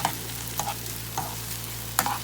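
Onions with a splash of vinegar cooking in a pan for a spicy Senegalese onion sauce, stirred with a few short scraping strokes over a steady low sizzle.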